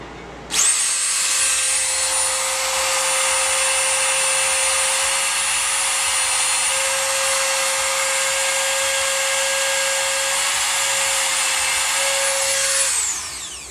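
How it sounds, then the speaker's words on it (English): A Dremel rotary tool whines at high speed while carving whiskers into a small cedar mouse figure, a loud steady pitch held unbroken for about twelve seconds before spinning down; no voices. "So I got my Dremel tool."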